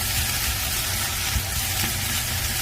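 Vegetables stir-frying in a pan for curry, after the onions have softened and browned, give a dense, steady, loud sizzle that runs without a break and stays close, with no voices.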